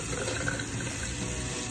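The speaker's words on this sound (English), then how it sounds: "Let's initially wet our hands with some water," Lukewarm tap water runs steadily into a sink as hands are wetted for infection-control handwashing, a constant close rushing flow heard alone.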